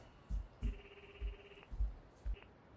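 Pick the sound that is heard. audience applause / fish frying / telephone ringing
telephone ringing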